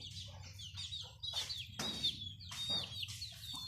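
Chickens cluck and squawk at a rural pen in the evening, a run of short, close, repeated calls with bright bird chirps mixed in, steady and fairly busy with no talking.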